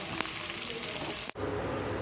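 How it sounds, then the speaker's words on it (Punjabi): Tadka tempering frying in a pan for a Manchurian gravy, with vegetables and onion going in: a steady, close, loud sizzle, a sharp disturbance near the end as ingredients drop in, then frying continues with no talk. "ਤੜਕਾ ਬਣਾ ਰਹੇ ਆ ਇਹਦੇ ਵਿੱਚ ਆਪਾਂ ਸਬਜ਼ੀਆਂ ਪਾਵਾਂਗੇ"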